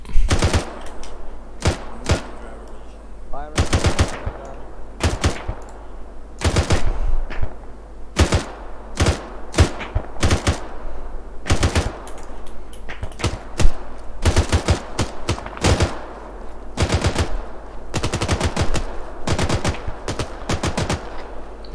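Suppressing gunfire in the video game Arma 3: loud, close bursts of automatic fire repeat at irregular intervals throughout, with short pauses between volleys.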